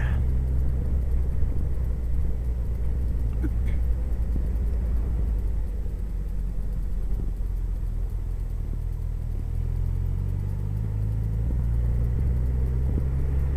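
A Suzuki GSX-R Hayabusa Gen2 motorcycle cruising along a road, giving a steady, close low engine rumble mixed with wind noise that holds an even level throughout, with no voices.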